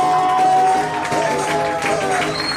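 A crowd aboard the Triton yacht off San Andrés Island applauds and cheers steadily, a dense wash of clapping and shouts with a bright tonal whistle or voice running through it.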